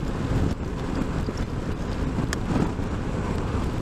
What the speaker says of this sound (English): it is quite a breezy day.